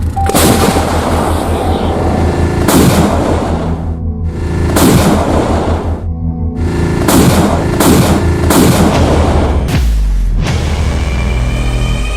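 Indonesian Army training exercise with AMX-13 tanks: loud, repeated heavy gunfire and artillery booms crack in a sustained barrage over a constant rumbling engine background, with several distinct blasts spaced through the clip.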